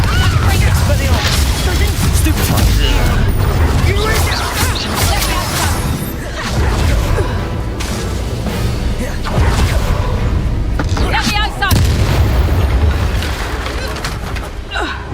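Repeated blasting spell explosions from Confringo in the video game Hogwarts Legacy, loud dense bursts and crashes layered with game music and effects, with a player talking over them throughout.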